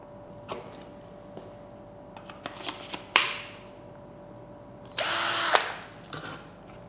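A DCA cordless drill set to speed 2 gives a few sharp clicks and taps, then spins up in a brief, near whirring burst that stops after under a second.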